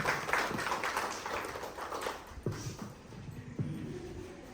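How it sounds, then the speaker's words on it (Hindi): Applause from the audience at a school cluster-centre farewell and felicitation ceremony, a steady patter of many hands that trails off into scattered claps, fairly faint, with no voices over it. "तालियों से अभिनंदन और स्वागत।"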